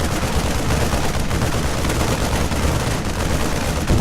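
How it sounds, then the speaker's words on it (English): Marines in a bunker open fire in StarCraft 2, a dense continuous rattle of rapid gunfire filling the whole stretch at steady loudness with no talk over it. "So I'm going to order these guys to open fire."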